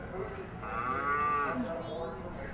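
A cow at a county fair gives one long, close moo that swells and fades over a couple of seconds, with faint background murmur.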